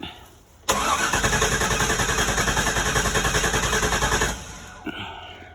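Car engine cranking over briefly, then catching and running loudly at a steady, pulsing idle for several seconds before cutting off abruptly, with a faint click afterward.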